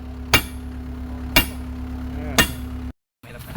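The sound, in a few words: hammering to remove a large wheel rim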